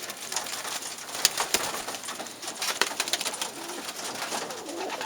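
Pigeons in a loft coo with low, throaty calls close by, several birds overlapping against a busy background of rustling and faint wing movement, with no talking.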